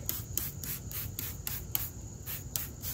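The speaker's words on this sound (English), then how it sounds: "Spray a generous amount to the rim and tire." Short hissing spray bursts of P&S Brake Buster cleaner being applied to a neglected wheel rim and tire, several quick pulses in a row, close and fairly soft.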